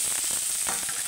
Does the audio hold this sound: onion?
yes